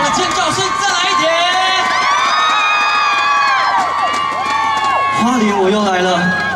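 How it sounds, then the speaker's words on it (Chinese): A large outdoor summer festival concert crowd in Hualien screams and cheers continuously, with high shrieks and whoops rising over a dense wall of voices. A voice talks loudly over the noise. "全场的尖叫声再来一点。"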